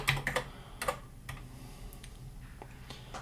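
Keys clack on a Texas Instruments TI-99/4A home computer keyboard in a few quick bursts of close, light tapping, then sparser single presses in a quiet room.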